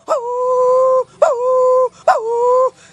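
A performer's voice imitates a dog in three drawn-out whining howls, each rising sharply then holding a steady tone, loud and close with brief gaps between them.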